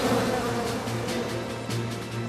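Wild bees swarming in an animated cartoon, a dense steady buzzing drone that fills the whole stretch at constant loudness with no voices over it.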